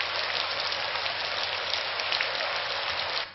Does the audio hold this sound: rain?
yes